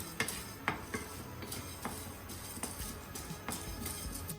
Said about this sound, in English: So dry roast them